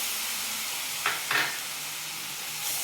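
Boiled milk is added to roasted semolina for suji barfi and stirred, giving a faint, steady hiss with two brief scraping strokes in the middle. Nobody talks.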